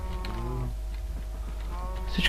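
Minecraft cows mooing in a low, drawn-out tone near the start, with a quieter second moo and faint game noise, no talking.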